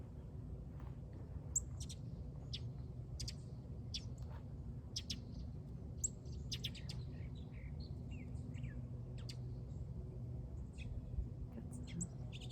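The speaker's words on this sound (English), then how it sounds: "Got some happy birds today." Outdoor birds chirp and sing in short, scattered, fairly faint calls. A steady low background hum runs underneath.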